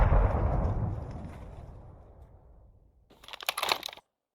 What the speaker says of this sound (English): Guessing where he was, I tunneled towards the blasts.